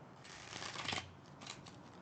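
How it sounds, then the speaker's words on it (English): Oracle cards being shuffled by hand, a soft papery riffling that swells to a louder burst mid-way and then returns in lighter flutters, close and alone with no talk. "Let's shuffle, shall we?"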